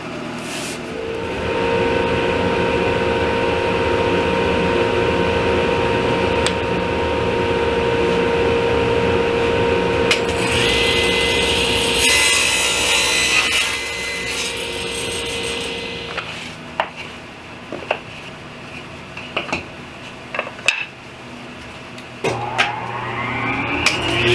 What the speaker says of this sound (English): I'm going to start off with the table saw and cut a 6" by 6" piece of Baltic birch plywood